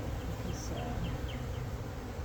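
Carniolan honeybees buzz steadily around an open hive during an inspection, a dense, continuous hum that fills the whole stretch with a few louder individual bees passing close by.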